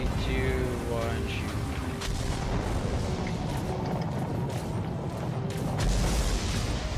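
Rocket launcher explosions in the game Destiny's Crota's End raid make a dense, sustained roar of booms and rumbling blasts, loud and close, with a continuous wash of noise and no clear gaps between impacts.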